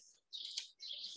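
Person whistling an imitation of a bird chirping, two brief high-pitched bursts separated by a short pause, quiet and close.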